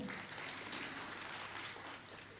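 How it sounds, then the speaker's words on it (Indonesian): A broadcasting awards audience in Bali breaks into steady applause, a dense, even wash of many hands clapping that holds throughout before easing slightly near the end. "Tepuk tangan untuk beliau semua."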